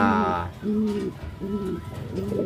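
Racing pigeon cooing close by, three low, rounded coos at a steady pace after a brief louder opening call.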